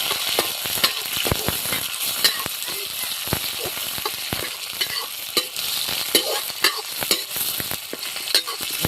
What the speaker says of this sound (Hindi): तो लहसुन डाल करके अब इसमें प्याज भी दोस्तों डाल देंगे और इसको भी तल लेंगे, अच्छे से भून लेंगे